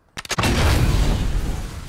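A pirate ship cannon fires in the battle royale game Fortnite with a sharp rapid burst of blasts, then a loud booming rumble that slowly fades.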